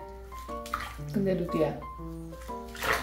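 Water splashes and sloshes as a pet dog is washed in a bath, close and continuous under someone talking.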